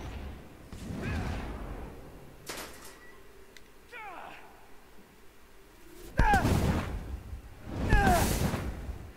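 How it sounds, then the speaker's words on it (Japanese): Explosions and combat blasts in the Marvel's Avengers video game, several loud booming bursts with sharp cracks, the heaviest two near the end, over game ambience. "なんか爆発、明らか爆発した ね。"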